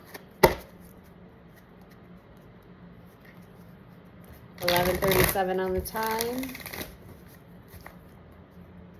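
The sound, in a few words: shuffling tarot oracle cards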